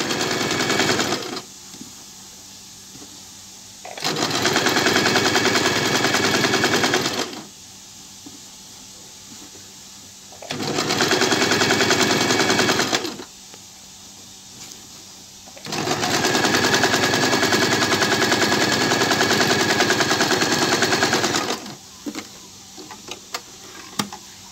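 A sewing machine stitches bloomer pants in three long bursts of dense, rapid mechanical whirring, loud and close, with quiet pauses between runs and small handling clicks near the end.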